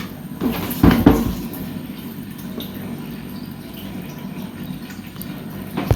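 Water is poured over grain to soak it for pap, a close splashing pour and slosh early on, then softer trickling and dripping with a few small knocks.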